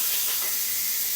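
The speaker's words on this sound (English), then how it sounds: "Then I'm going to hit this, and that's what releases my pressure." A pressure cooker vents its built-up pressure, giving a steady, loud, bright hiss of escaping steam that runs unbroken from start to finish with no talking.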